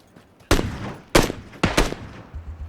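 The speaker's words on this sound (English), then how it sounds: "He just shot at me." Gunfire in PUBG: three sharp, loud shots spaced about half a second apart, the last with a quick follow-up crack, each trailing off in a short echo against a quiet background.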